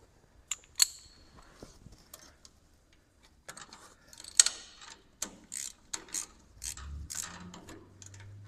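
A wrench tightens a stubborn bolt on an abandoned Farmall 560 tractor, producing scattered metallic clicks and ratcheting ticks close by, with short pauses between bursts of turning.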